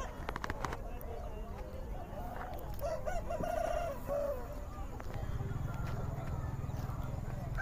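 A rooster crows once at a busy Friday market in Nallapadu where roosters are sold, its call rising briefly over steady crowd chatter and background bustle.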